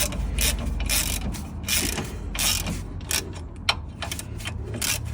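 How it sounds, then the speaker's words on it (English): Ratchet wrench clicking steadily as it tightens two lock nuts on the front right lower ball joint of a 2008 Toyota Avensis 2.0 D4D T270, rapid ratcheting bursts close up with a sharper knock near the end. "I'm going to tighten it up with a ratchet in it, just to get it tightened up."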